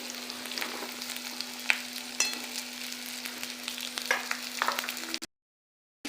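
Cut okra sizzling in a pan with chilli, a soft continuous fry punctuated by a few clicks and scrapes of stirring, close and quiet, ending in abrupt silence.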